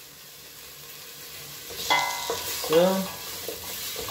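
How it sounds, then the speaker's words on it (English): Celery frying in a pan as a seasoning base for lentils, a quiet steady sizzle with a couple of louder bursts of stirring and clatter partway through; a short spoken word is heard. "I give it a fry."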